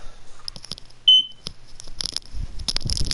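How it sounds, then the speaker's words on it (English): A smoke detector in the room gives a single short, high electronic beep that stands out clearly among soft clicks and game sounds. "Sorry for the beep."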